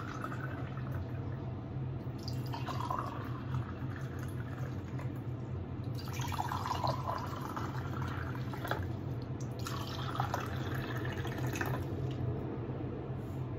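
Tap water runs steadily into a container in a household chore setting, with soft continuous splashing and trickling. Brief brighter surges stand out over a constant low hum, and no one speaks.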